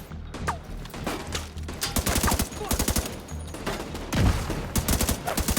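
Gunfire and a grenade blast in The Division 2 on PC: dense, loud automatic bursts rattle almost continuously, and a heavier burst of noise lands near the end.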